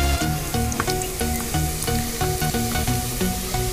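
Onions frying in oil in a pan for a village-style chicken biryani: a loud, continuous, close sizzle with crackling pops throughout and no talking.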